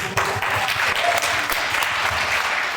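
An audience at a fireside chat on money mindset breaks into steady applause, a dense wash of many hands clapping at once, sustained and even throughout with a faint voice underneath.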